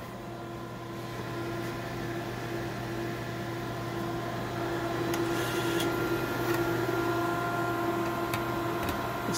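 A DEK Horizon 02i stencil printer with Stinger dispense option runs steadily, a constant mechanical hum with a faint whine and occasional soft ticks, no one speaking.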